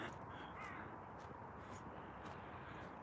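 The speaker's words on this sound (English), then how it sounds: "Yes, there's definitely some crows around." Several crows caw in a misty Scottish countryside on a hillwalk, with sharp calls repeating every half second or so over a steady wash of wind or background noise, the birds sounding moderately distant.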